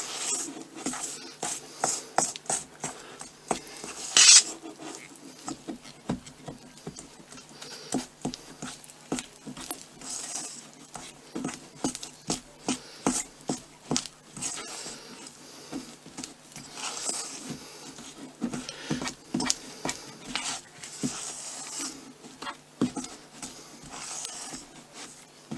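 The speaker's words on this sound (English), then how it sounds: "Keep on mixing until you get a stiff dough" Vegan flowerpaste being mixed by hand into a stiff dough, with soft rubbing, patting and scraping strokes repeating in a steady irregular rhythm, close and fairly quiet, with no talking.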